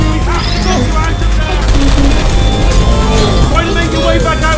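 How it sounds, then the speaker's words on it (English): Gunfire in the video game Portal 2, rapid bursts mixed into a loud, busy game soundtrack with layered tones and effects running continuously. "I heard gunfire!"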